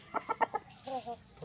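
Hens clucking close by at a farmyard, a quick run of four sharp clucks followed by a softer drawn-out call, faint and brief.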